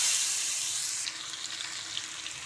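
Marinated chicken leg pieces sprinkled with kasuri methi hiss and sizzle as they go into a hot pan for a roast, a loud steady frying that drops to a softer crackle partway through.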